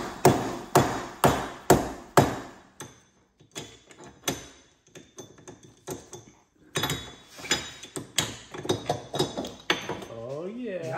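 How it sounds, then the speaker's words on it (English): Loud, sharp metallic hammer blows strike a front wheel bearing on a 2006 Porsche Cayman S 987 in a quick regular series, pause, then resume in irregular clusters, with brief talk in between. "All right, I'll hold on it while you hammer."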